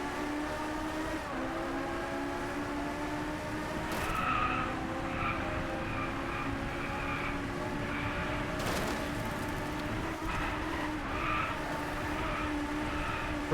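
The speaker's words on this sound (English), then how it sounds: "Drifting all over the road because I keep hitting bumps." A car skids and drifts across a bumpy road in the racing game Driveclub, tyres squealing in long sustained tones over a constant engine drone, loud and close.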